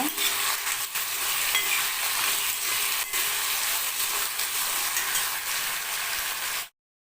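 Potatoes sautéed and stirred in a pan, giving a loud, steady frying sizzle with faint scraping throughout. It cuts off abruptly near the end, and no one speaks.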